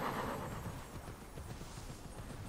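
Horse in Immortals Fenyx Rising, steady clip-clop of hooves moving at pace over a continuous bed of ambient game noise, moderately loud with no voices.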